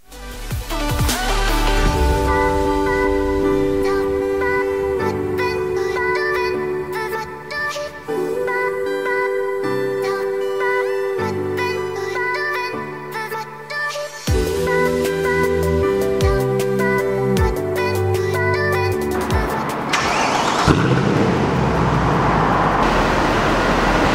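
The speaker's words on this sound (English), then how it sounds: "we're going to do some flybys, some revs" A Mercedes C63 V8 revs and drives past in a tunnel, loud engine notes rising and falling through several rev sweeps and gear changes, echoing, ending with a louder rush as the car passes close.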